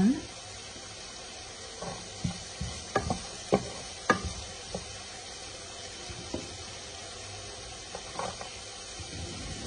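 Onion and meat sauté with garlic in a pan for a Turkish purslane and minced meat dish, giving a soft steady sizzle broken by scattered scraping stirs, with a voice speaking over it.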